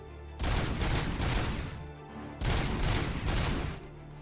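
Rapid automatic gunfire in the RoboCop video game: two long, loud, sustained bursts separated by a short gap.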